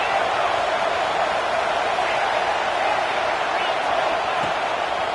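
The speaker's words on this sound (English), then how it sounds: "Listen to the crowd energy here in the early going." A college football stadium crowd cheers early in a game, a dense, continuous roar that holds steady and loud throughout with no clear breaks.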